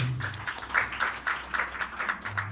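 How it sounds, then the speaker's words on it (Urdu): Clapping from a church congregation at a Sunday service in Rawalpindi, a fairly quiet, uneven patter of hands with a steady hum underneath. "بہن کے لیے زوردار تالیاں بجائیں"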